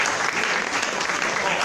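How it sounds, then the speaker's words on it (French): Dense, loud applause from an audience cheering the winning team at a digital bank launch ceremony, a continuous roar of clapping throughout. "On va applaudir Abobo"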